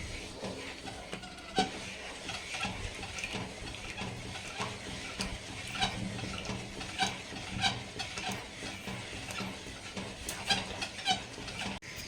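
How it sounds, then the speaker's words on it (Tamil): Gram flour and ghee mixture for ghee Mysore pak being stirred on low heat, a steady scraping and stirring in the pan with soft sizzling underneath and occasional sharper clicks of the spoon, continuous and fairly close. "சிம்மில் வச்சுட்டு தான் நான் வந்து மிக்ஸ் பண்ணிட்டுருக்கேன்."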